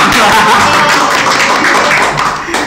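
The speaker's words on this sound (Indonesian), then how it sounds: "Tepuk tangan untuk saya sendiri." Steady crowd applause from a school audience fills the whole stretch, a dense patter of many hands clapping, loud and close, tapering slightly at the end.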